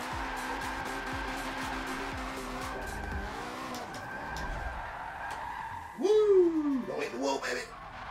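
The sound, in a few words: low-horsepower drift car skidding during a drift run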